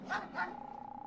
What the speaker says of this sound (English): only things living here now are the dogs